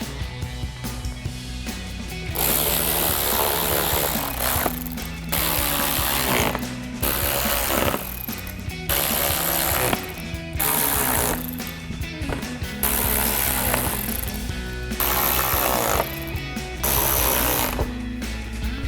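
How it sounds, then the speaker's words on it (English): A ratchet with a 7mm socket tightens screws across the front of a 2018-2023 Mustang GT during a headlight install, giving dense repeated clicking and mechanical rattling in close, loud bursts with brief gaps. "So I'm gonna take our ratchet and our 7mm socket and reinstall all of our screws going all the way across the front."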